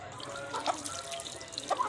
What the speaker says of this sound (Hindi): पानी डालो यार आप। मैं डालता हूँ यार आराम आराम से पानी वाला